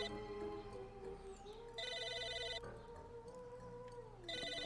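In Psychonauts, an oversized in-game phone gives two rings of shrill, trilling bell tones, one mid-clip and one at the end, set against droning background music.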